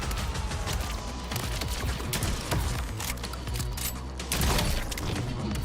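Shotgun fire in the video game Borderlands 4 against charging melee enemies, with dense, continuous booming blasts and mechanical clatter at loud, close range, overlapping without pause.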